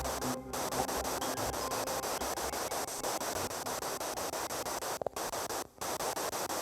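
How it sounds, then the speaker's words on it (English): Steady hissing white noise from a radio scanner inside Shepton Mallet Prison fills the clip at a constant level, with a couple of brief dropouts. "she listens out for any voices buried within the white noise"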